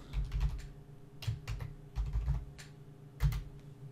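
Quiet, close computer keyboard typing in short irregular bursts of clicks, as someone enters a login, with brief pauses between clusters of keystrokes.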